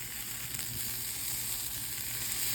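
Steady, close sizzling of an oatmeal omelette frying in a pan, a continuous bright hiss with faint low crackle underneath and no voices.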